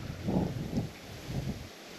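At a fishing spot by the water, wind gusts across the microphone in low, rumbling buffets that swell and fade over a steady outdoor hiss.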